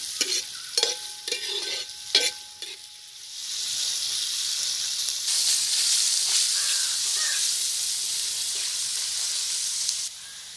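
Sliced onions sautéing in a pan for Kerala-style chicken curry, a steady broad hiss of frying that swells and holds after a few spoon scrapes and stirring knocks, close and continuous.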